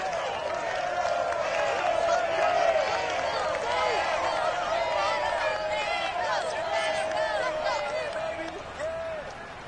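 Stadium crowd in Madden NFL 22 at a Jaguars versus Bengals game, a steady roaring cheer with scattered whistles and shouts holding loud throughout, easing slightly near the end.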